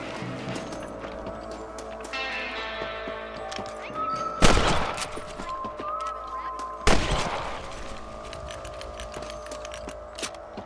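Rifle gunshots ring out while hunting rabbits in Red Dead Redemption, two sharp loud cracks a couple of seconds apart over steady game ambience and clip-clop movement.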